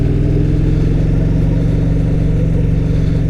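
A motorcycle engine idles steadily and loudly up close after a new ignition coil was fitted, its rapid even pulsing running throughout with no voices.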